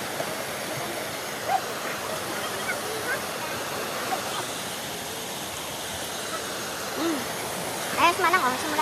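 A waterfall pours into a swimming spot with a continuous rushing roar, while people's voices and brief shouts break in now and then over the water.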